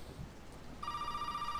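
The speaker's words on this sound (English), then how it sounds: "phone is ringing" A telephone rings in the survival horror game Resident Evil 7, a steady electronic ring starting partway through over a low rainy background ambience.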